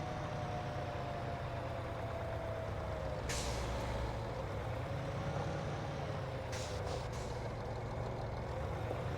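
A small farm truck at a North Carolina farm lets out two sharp air-brake hisses, one short and one longer double burst, over a steady, close engine rumble.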